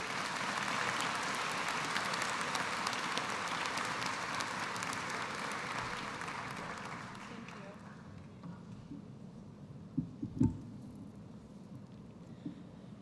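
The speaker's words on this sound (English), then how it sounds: "Please join me now in applauding" Audience applause at a spring commencement ceremony, a broad, sustained wash of clapping from a large crowd that fades out over several seconds, leaving a quiet hall with a few faint knocks.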